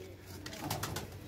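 Pigeons coo softly on a rooftop loft, a few low, throaty calls building up over the second half above faint background noise.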